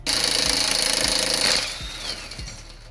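An impact gun hammers rapidly in a loud burst, removing exhaust bolts on a Toyota Yaris back box. It stops after about a second and a half, leaving a quieter whirring tail.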